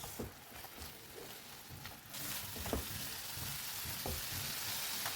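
Spices, garam masala and Kashmiri red chili powder frying in oil in a pan for aloo matar, a steady close sizzle with light stirring scrapes, growing fuller and louder partway through.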